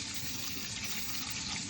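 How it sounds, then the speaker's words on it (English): Water from boiled meat, cooking for stew peas, is poured off in a steady, rushing gush that runs without a break at low to moderate volume, with no talking. "I'm going to pour off the water."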